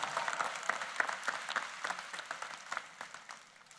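Applause from an audience at a university convocation ceremony, a steady mass of hand claps with scattered sharper individual claps, fairly distant and fading toward the end.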